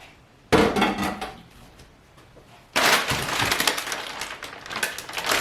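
Vegetables tumble into a pan greased with olive oil, with two loud clattering, rustling bursts, the second one longer and settling into scraping and shuffling as they spread across the bottom.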